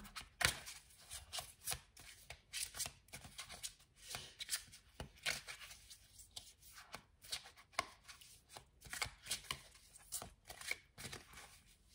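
Tarot cards being shuffled close up, a quick series of crisp riffling bursts and soft slaps repeating in an irregular rhythm, quiet and without talk.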